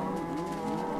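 A cow moos in the video game Minecraft, one sustained low bovine call that is close and fairly loud, heard alone.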